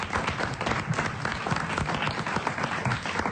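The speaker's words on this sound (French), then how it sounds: "On vous remercie, on vous applaudit" Studio audience of a French-language talk show applauds, a thick, constant wash of clapping that stays level and fairly close for the whole stretch, with no talk over it.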